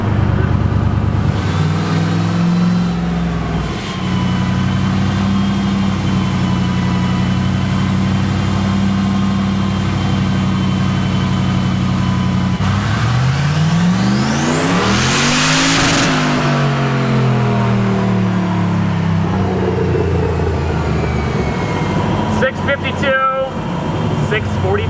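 Turbocharged LS6 V8 in a Volvo sleeper car doing a dyno pull, a loud steady engine drone whose pitch sweeps sharply upward and then drops, with voices talking over the steady roar.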